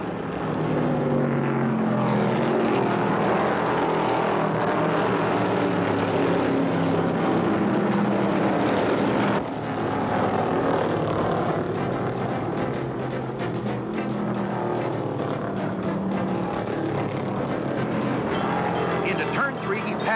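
NASCAR stock cars from the 1971 Michigan 400 roar past in a pack, a loud continuous engine drone that swells and brightens midway as the field sweeps through the fourth turn, with faint commentary underneath.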